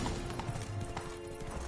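Unicorn hooves clip-clop in a steady walking rhythm as it is ridden in The Witcher 3: Blood and Wine, moderately close, with soft low ambient music and faint game sounds underneath.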